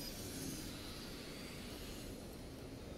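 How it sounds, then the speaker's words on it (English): Drone flying in the Batman Telltale video game, a steady airy engine whoosh that holds evenly throughout without speech. "Oh, the drone."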